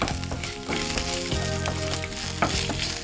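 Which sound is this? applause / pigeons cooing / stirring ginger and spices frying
stirring ginger and spices frying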